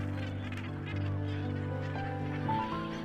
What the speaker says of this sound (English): The Cape gannet is renowned for its exceptional diving skill.